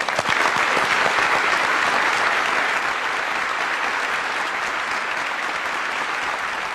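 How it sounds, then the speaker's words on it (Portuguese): Newsroom staff of a television news program standing together and applauding, a dense, loud, continuous wash of many hands clapping that holds steady throughout and eases slightly toward the end. "damos uma salva de palmas"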